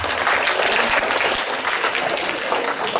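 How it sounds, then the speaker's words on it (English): A class of students at a school assembly claps steadily, a dense, loud wash of applause that runs unbroken for a few seconds. "Clap for him, please."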